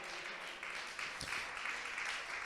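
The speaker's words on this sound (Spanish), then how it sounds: "Aplaudámoslo al Señor" Church congregation applauding together, a steady dense wash of clapping from many hands that fills the room at moderate level, with no talk over it.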